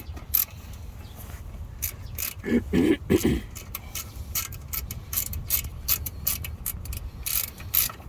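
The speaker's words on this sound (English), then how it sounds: "This is another time where my handy dandy turning socket wrench comes in handy." A ratchet socket wrench turns on a 1994-2002 second-generation Dodge Ram during a brake job, giving quick bursts of close, sharp clicking, with a louder clatter near the middle, over a quiet background.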